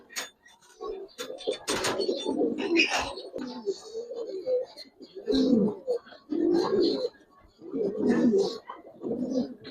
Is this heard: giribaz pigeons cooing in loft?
yes